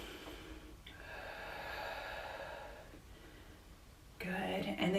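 Slow, deep breaths during a seated chair yoga pose, long airy inhales and exhales held steady under a faint room hum, with a brief voice-like murmur near the end.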